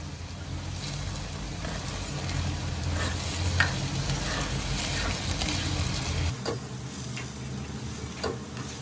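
Pasta being stirred together in a pan, with a steady sizzle and intermittent scraping, close and moderately loud; the sizzle drops to a quieter background partway through, with no talking.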